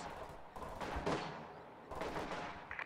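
Small arms fire crackles in a World War II-style battle with Panzer Grenadiers, several fairly distant bursts and single shots spread over a few seconds, with no voices.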